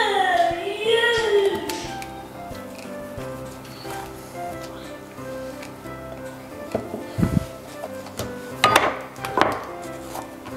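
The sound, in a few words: dough being kneaded by hand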